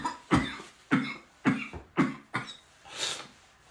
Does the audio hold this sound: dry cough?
yes